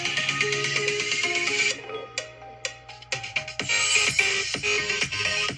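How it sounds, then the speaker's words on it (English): Higher-pitched music plays through a super mini vapeonly bone conduction Bluetooth speaker held in the hand: a steady, fairly loud stretch that breaks into punchy rhythmic hits partway through, with no talking. "So this one's some higher music, so you can really hear it."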